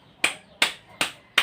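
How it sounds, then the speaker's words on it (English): A group of classmates claps in rhythm: four sharp, evenly spaced claps ring out crisply and close, each decaying quickly before the next. "let's have 5 claps for the group 3"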